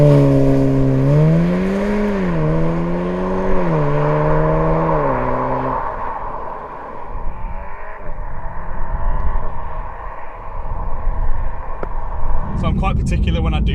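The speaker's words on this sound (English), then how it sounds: "I did my very first launch in this car today ever." A Volkswagen Golf R MK7 launching with launch control: a droning engine note climbs and dips through several steps, then gives way to a loud, steady rush of road and wind noise, with voices likely heard alongside.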